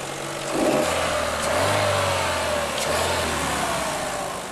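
A 2011 Chevy Cruze Eco with its 1.4-litre turbocharged four-cylinder engine accelerates, the mid-pitched engine note rising and revving steadily for several seconds under road and wind noise, with no talk.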